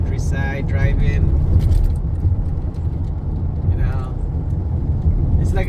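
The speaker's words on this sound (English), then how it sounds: "So guys, this is a nice back road driving at the countryside." A car rolls along a countryside back road with a steady low road rumble throughout, while someone talks over it.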